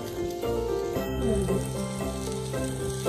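Chili idly sizzling and frying in a pan as it is stirred, a steady close crackle with soft scraping, no talking.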